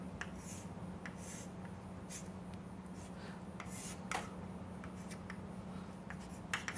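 Drawing on a board during a lecture on solute transfer and alloy compositions: scratchy strokes and short taps come in bursts over a steady low room hum, close and fairly quiet, with no talking.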